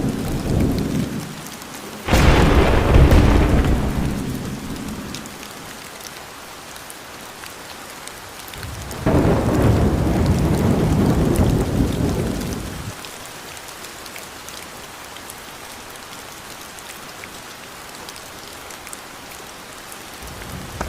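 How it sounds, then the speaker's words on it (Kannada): A loud thunderstorm with heavy rain, two big rolling thunder rumbles breaking over a constant hiss of downpour. "ಗುಡುಗು ಮಿಂಚು ಜಾಸ್ತಿ ಇದೆ ಫ್ರೆಂಡ್ಸ್"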